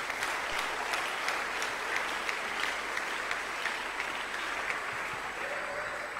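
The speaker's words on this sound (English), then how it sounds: "Give them a good clap offering, everybody." Congregation clapping at a Wednesday church service, a steady, loud wash of hands from many worshippers sustained throughout without pause.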